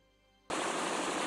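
Gunfire erupts in the Steins;Gate visual novel video game, silence broken suddenly by a loud, dense, continuous burst of rapid shots that holds until the end.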